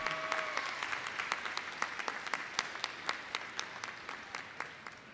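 Commencement audience applauding graduates' family members, dense steady clapping from a large crowd with distinct sharp individual claps standing out throughout, continuing at an even level.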